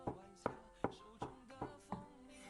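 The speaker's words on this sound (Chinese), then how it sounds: "再准备适量的香菇，切片。" Knife slicing shiitake mushrooms on a cutting board, six evenly spaced, crisp chops close by with no talk.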